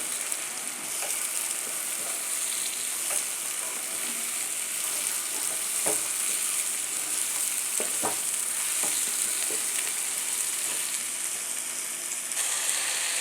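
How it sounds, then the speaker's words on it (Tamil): Sliced ridge gourd goes into a simmering prawn gravy in a pan, and a steady loud sizzle and bubbling fills the scene with occasional sharp clicks of a spoon stirring against the pan. "இது கூட இப்போ நம்ம நறுக்கி வச்சுருந்த இந்த பீர்க்கங்காயை சேர்த்துக்கலாம்."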